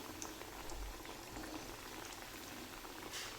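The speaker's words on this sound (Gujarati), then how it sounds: "તળી લેવાની, એકદમ ધીરો નહીં કરવાનો, બાકી તેલવાળી ટિક્કી થશે." Potato-peanut tikki frying in oil over medium heat gives a soft, continuous bubbling sizzle, faint and steady with a few small pops and no talking.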